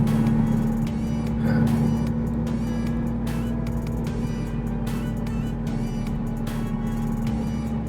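A vehicle engine holds around 4,500 RPM under load on a steep mountain climb near Royal Gorge, Cañon City, Colorado, a steady, continuous drone with a constant low hum and no talking.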